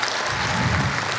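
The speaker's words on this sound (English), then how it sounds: "So a round of applause for Josiana Gomes," An audience at a high school concert breaks into applause, dense, loud clapping that fills the whole short moment.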